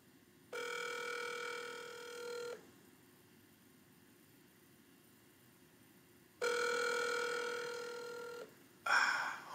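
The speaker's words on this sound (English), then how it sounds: "Let's go ahead and call him. Put him on speakerphone, let's see if he answers." Outgoing phone call ringing through a speakerphone: two long electronic ring tones, each about two seconds, separated by a quiet gap, with a brief further tone at the end; no talking.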